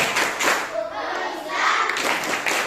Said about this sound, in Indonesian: Tepuk rukun Islam.